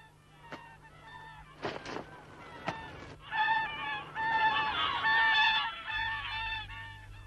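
A flock of geese honks repeatedly, a few sharp knocks first, then a dense, overlapping chorus of calls that stays loud and close.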